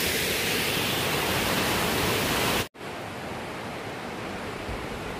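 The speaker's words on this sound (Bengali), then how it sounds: "এই ঝর্ণার কি আওয়াজ, জলের আওয়াজ চতুর্দিকে।" Steady, loud roar of a waterfall and rushing water at the Seven Beauties falls, a dense broadband wash that cuts off abruptly for an instant near the middle, then resumes just as full with no voices.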